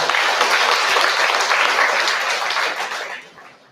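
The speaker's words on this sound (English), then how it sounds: "So give him a round of applause." A crowd applauds Dr. Suresh, the outgoing principal and incoming vice principal, at a college welcome event; loud, close, dense clapping runs steadily before tapering off at the end.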